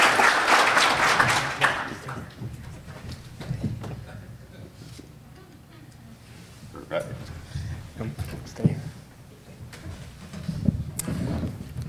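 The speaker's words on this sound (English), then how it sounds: "give a round of applause to Dr. Sani" An audience at an emergency medical services opening ceremony gives a round of applause, a burst of clapping at the start that fades into scattered claps, footsteps and murmured voices as someone is greeted onstage.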